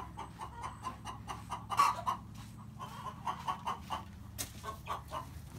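Chickens in a netted aviary-style coop cluck in short, repeated bursts at an uneven rhythm, fairly close. One louder squawk stands out among the steady clucking, with no talking.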